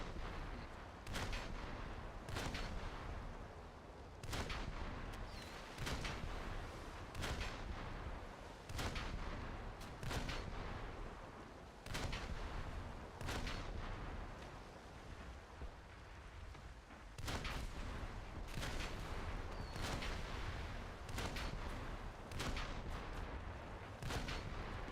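Ship cannons in a naval combat video game fire in a steady series of loud, sharp booms, roughly one every second or two across the stretch, each blast trailing into rumbling noise with no talk over it.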